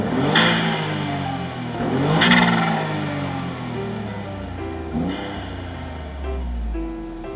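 A Honda S660 Modulo X engine fitted with an HKS aftermarket muffler is revved repeatedly, with sharp rises and falls in pitch, close and loud with no talking.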